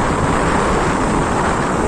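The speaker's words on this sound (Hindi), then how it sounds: "यहाँ से पानी निकल रहा है" Water gushes steadily out through the gates of Gohira Dam in Deogarh, a loud, dense, unbroken rushing roar that fills the scene.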